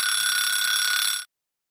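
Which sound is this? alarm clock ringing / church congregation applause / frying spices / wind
alarm clock ringing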